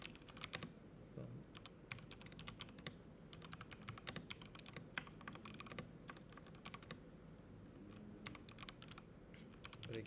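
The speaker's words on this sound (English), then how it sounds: "So let me type one query" Steady clicking of a computer keyboard as someone types a search query, many quick keystrokes running close and continuous, with a faint murmur beneath.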